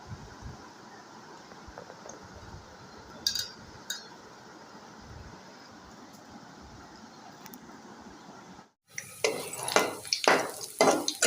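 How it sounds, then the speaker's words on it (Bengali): Onion, cardamom and cinnamon fry quietly in a pan, a soft steady sizzle with a couple of brief clinks, then rice goes in and a louder burst of rattling, scraping and hissing follows near the end. "পেঁয়াজ এলাচ দারচিনি ভেজে কলার চাউল দিয়ে দিলাম"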